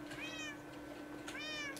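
Two soft meows from a cat in the Minecraft video game, spaced about a second apart against a low steady background hum.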